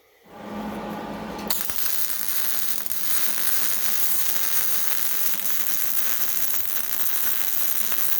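Arc welding joining steel pieces: a bright, dense crackling sizzle starts abruptly and continues steadily for several seconds, close and loud, after a brief low hum.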